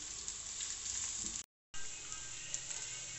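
Onions sizzle and crackle in hot oil, a steady frying hiss broken by a brief moment of silence midway.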